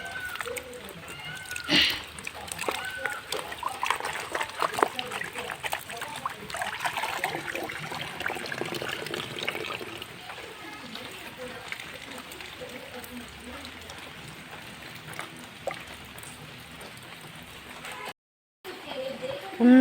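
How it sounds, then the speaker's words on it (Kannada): Water flows and trickles steadily at moderate loudness, a continuous wash of noise with faint background voices throughout, briefly cutting out near the end. "ನೀರು ಹರಿಯುಂಡು"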